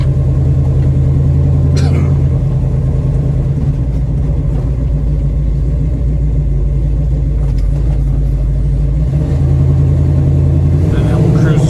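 A 1969 Chevrolet Nova SS396 with power steering and power brakes cruising on a freeway gives a steady, loud low engine rumble and road drone that runs throughout, with talk heard over it.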